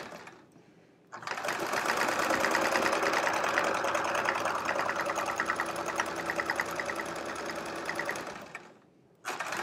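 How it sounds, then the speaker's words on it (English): A sewing machine runs at a steady fast stitch while doing diagonal free-motion quilting on a chevron quilt, a close, continuous mechanical whir that starts and stops abruptly. "Quilting at a diagonal"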